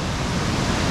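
Floodwater rushes in a dense, steady roar during severe flooding in Osilnica, Slovenia, near a threatened bridge, with a broadband wash continuing and no voices.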